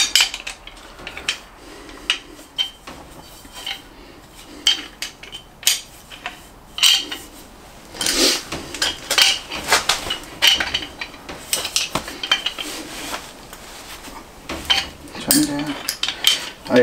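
A used pipe union fitting on underfloor heating pipework gets unscrewed by hand: irregular metallic clinks, scrapes and taps sound close by, some louder knocks mixed in, with no talking.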